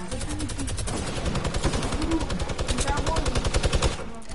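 Rapid automatic gunfire in a PS4 shooter game, a steady stream of loud, evenly spaced shots running for several seconds before cutting off, with voices heard faintly beneath.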